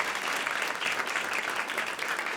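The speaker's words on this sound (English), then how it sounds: "Let's give her a round of applause." At a New York City book launch, the crowd breaks into a full round of applause for the author, dense and loud clapping from many hands with no voices on top.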